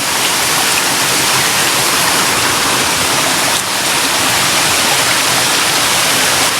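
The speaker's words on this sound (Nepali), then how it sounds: "ए खोला चाहिँ आइपुग्यो है" A hillside stream rushes past close by, a loud, dense and unbroken roar of flowing water with no voices.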